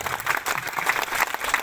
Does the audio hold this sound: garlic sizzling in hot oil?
no